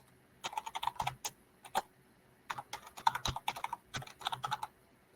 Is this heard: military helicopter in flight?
no